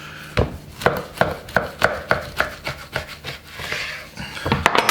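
Knife slicing through dry-aged meat close to the bone, a series of crisp, evenly spaced cutting strokes, about eight sharp near impacts with scraping in between, no talk.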